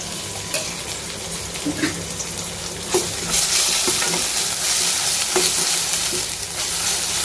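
Ginger garlic paste fries in oil in a pan for egg curry, a loud steady sizzle broken by a spoon scraping and stirring against the pan in occasional knocks.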